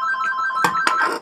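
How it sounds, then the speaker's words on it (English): A phone rings with a bright electronic trill, two short bursts close by, then cuts off. "Oh, the phone got the ring."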